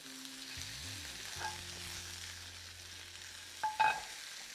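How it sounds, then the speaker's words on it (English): Mushrooms sauté in a pan with fried garlic and onions, giving a steady soft sizzle throughout, with a few faint clinks of utensils near the end and no talking. "Now we saute the mushrooms with the fried garlic and the onions."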